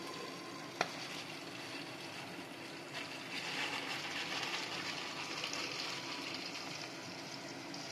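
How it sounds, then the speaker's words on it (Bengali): Kashmiri red chili and fenugreek fry in hot oil, giving a steady soft sizzle with faint stirring scrapes and one small clink, the whole thing fairly quiet and even throughout. "এবার এটা ভালো করে ফ্রাই করো।"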